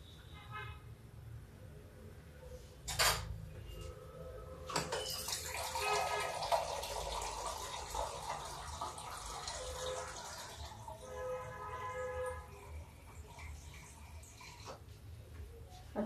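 Water runs from a tap and is poured into a vessel in a home kitchen, a steady splashing gush in the middle, with a short toot or clank before it and distant traffic behind.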